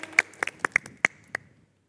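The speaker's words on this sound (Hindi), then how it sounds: "किरण के लिए जोरदार तालियां प्लीज।" Scattered handclaps from a small audience on an Indian TV entertainment show, about seven sharp claps spaced irregularly over under two seconds, fairly quiet and with no talk, before fading out.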